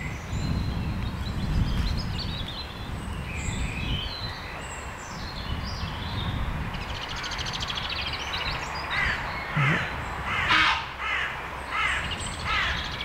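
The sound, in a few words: ravens calling in woodland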